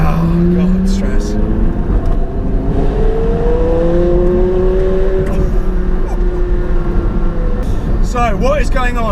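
A Porsche Carrera GT engine on the road, droning and rising in pitch as the car accelerates, loud and steady throughout. Someone talks over the engine sound inside the cabin.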